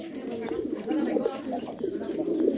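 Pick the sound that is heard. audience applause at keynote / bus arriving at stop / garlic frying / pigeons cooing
pigeons cooing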